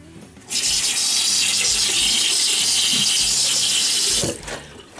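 Cold water runs steadily from a sink tap for about four seconds, a loud, close, hissing gush that starts and stops abruptly, followed by faint splashes as water is brought to a face; no talking.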